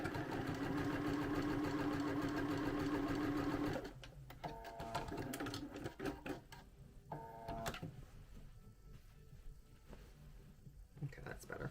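Sewing machine stitching a sweatshirt, a fast continuous mechanical whir for several seconds that then stops, followed by quieter handling clicks, rustles and brief machine movements nearby.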